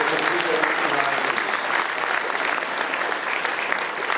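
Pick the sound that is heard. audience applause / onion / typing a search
audience applause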